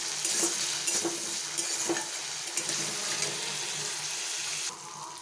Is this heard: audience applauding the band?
no